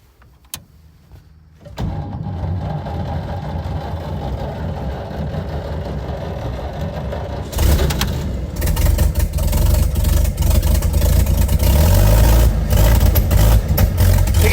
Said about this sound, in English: Let's go ahead and try to start the car.